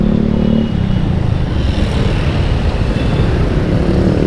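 A motorcycle rides along a road, its engine droning loud and close with a steady low rumble and a slight lift in pitch near the start, recorded from the rider's position.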